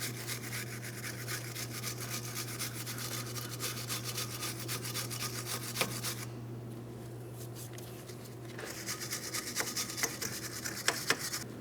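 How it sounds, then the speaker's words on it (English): A wire brush scrubs the rear knuckle of a Pontiac Grand Prix during rear strut replacement, producing a continuous close scratchy rasp with a brief pause midway, under a steady low hum. "I'm just going to use a wire brush."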